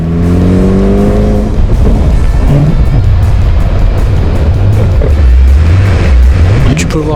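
A 600HP Ferrari driving around Maranello, its engine a loud, continuous, close-up drone that climbs and falls in pitch as it accelerates, with voices faintly underneath.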